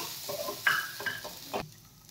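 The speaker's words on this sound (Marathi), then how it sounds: "तांदूळ अर्धा मिनिट परतून घ्यायचे आहेत" Ground rice sautéed briefly in a pan for kheer, heard as soft stirring scrapes and a light sizzle, with a few louder spoon strokes near the start and middle before fading to quiet.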